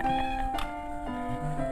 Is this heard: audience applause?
no